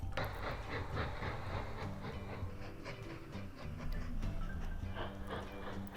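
Passenger trains in the Mashinky video game roll steadily, a continuous rumbling clatter of wheels with faint hiss, holding an even level throughout with no talk.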